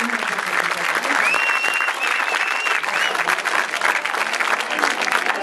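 An audience at the premiere screening of the French film La French, starring Jean Dujardin and Gilles Lellouche, claps loudly and steadily throughout, a dense wash of hands with faint crowd voices beneath.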